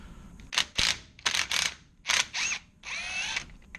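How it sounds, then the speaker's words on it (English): Spring compressors tightened on a 2002-2006 MINI Cooper R50-R53 strut with a torn strut mount: several short bursts of power-tool whirring and ratcheting, close by, separated by brief pauses, with a longer final run. "I'm going to put these spring compressors on here, one on each side"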